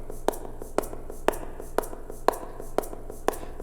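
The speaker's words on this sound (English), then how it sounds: "On top of that, I played some shaker." A short percussive shake-like hit repeats evenly about twice a second, crisp and close, with a faint low hum underneath.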